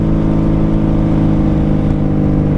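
A 1995 motorcycle fitted with Jardine pipes gives a loud, steady, deep engine drone close up, the exhaust holding a strong harmonic rumble without any clear rise or fall.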